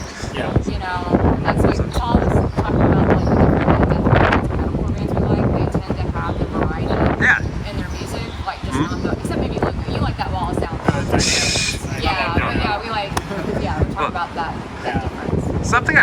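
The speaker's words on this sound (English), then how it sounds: "It's windy as shit here." Loud, constant wind buffeting the microphone throughout, with rumbling gusts and a voice talking underneath.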